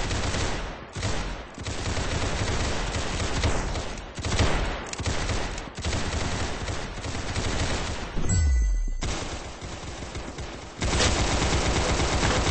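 Gunfire in the video game Arsenal: loud, dense, continuous automatic fire with rapid shots and brief pauses, close up and dominating throughout, with no talk over it.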